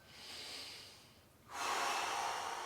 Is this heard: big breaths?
yes